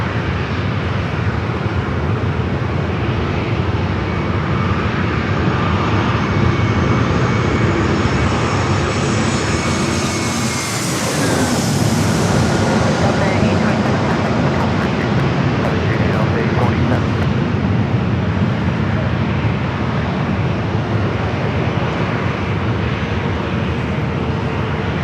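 A plane arriving at San Diego airport roars loudly and steadily, the engine noise swelling toward a peak as it passes close, then staying strong with some wind buffeting.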